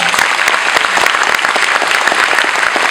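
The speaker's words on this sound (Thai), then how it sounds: "ขอเสียงปรบมือครับผม" Loud, dense audience applause at a student enterprise exposition semi-final, many hands clapping in a continuous, even burst that stays strong from start to finish with no speech on top.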